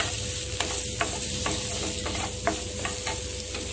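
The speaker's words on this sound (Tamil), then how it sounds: "நல்லா இது மாதிரி வறுத்துக்கோங்க" Flattened rice (aval) roasts dry in a pan, a low steady sizzle broken by light scraping and stirring strokes roughly every half second, close and fairly quiet.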